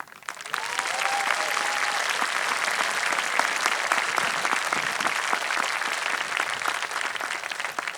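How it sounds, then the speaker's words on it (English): Sustained applause from a large audience at the Joel Barlow High School graduation ceremony, building quickly and holding as an even, full roar of clapping for several seconds. "I'm going to definitely ask you for a big hand of applause"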